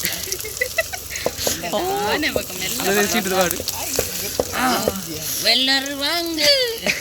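Ginger and garlic sizzle in hot oil in a pan, the first step of a simple egg fried rice, a steady close crackle with scraping stirs, under someone speaking at length.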